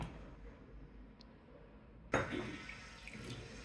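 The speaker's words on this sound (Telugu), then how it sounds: "తగినన్ని ఇట్లా గిన్నె కడిగి నీళ్ళు పోద్దాం" Water splashes into a bowl as it is rinsed and filled while utappam batter is made from upma rava and curd; a sudden close burst of running and splashing water breaks a near-silent start.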